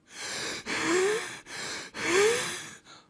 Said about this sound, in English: wheezing,